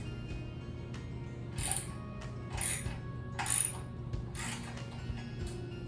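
Ratchet wrench loosening bolts while taking apart a Sole F80 treadmill: a few separate clicking bursts spaced about a second apart, moderately close, over a steady low hum, with no voices.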